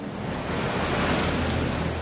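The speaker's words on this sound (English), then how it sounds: "I just remember those waves, the sound of those waves." Roaring ocean waves in a storm at sea pound continuously with a dense, steady wash of surf and wind noise, loud and unbroken, with no voices.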